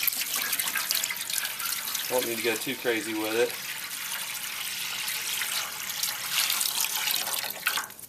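Water poured from a container into a pan set in the bottom of a kettle grill smoker, a brief splashing pour lasting about a second and a half amid outdoor background noise, someone speaking briefly.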